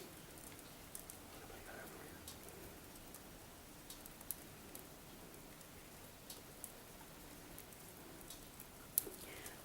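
Steady rain falling outside on a winter day, a continuous soft hiss with scattered faint drop taps and ticks, fairly quiet and even throughout with no speech.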